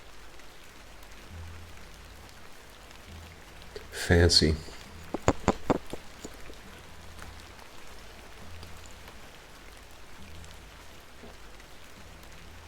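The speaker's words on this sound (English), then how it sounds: "Let's get out of the rain." In the video game Hob's Barrow, soft, steady rain patters quietly in the background throughout, briefly interrupted by a short burst of speech and a few sharp clicks.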